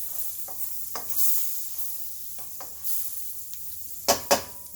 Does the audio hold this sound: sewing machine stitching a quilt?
no